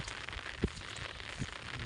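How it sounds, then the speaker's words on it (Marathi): Steady rain patters over an open farm field as a continuous soft hiss, with a couple of faint low thumps. No voices. "पाऊस बी आलाय मस्तपैकी"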